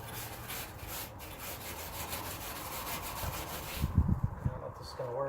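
A Brillo pad scrubs dust off the cab of an F250 truck under restoration, a steady gritty rubbing heard up close that grows rougher and louder near the end.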